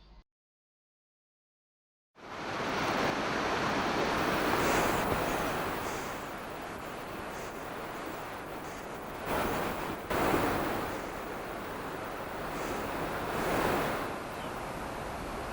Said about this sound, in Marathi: गौरीकुंडात गरम पाण्याची धार सतत पडत असते.